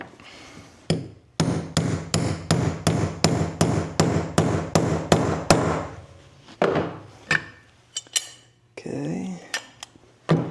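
Steady metallic hammer taps drive a bearing into a part of a 1995 Honda XR250L motorcycle, about a dozen sharp, close, evenly spaced hits, followed by a few scattered knocks and scraping.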